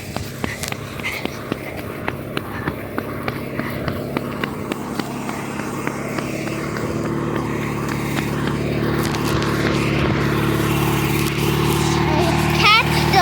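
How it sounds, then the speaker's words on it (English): A Sears SS16 Suburban garden tractor drives fast, its engine droning steadily and growing slightly louder, while people talk excitedly over it. "This tractor's fast!"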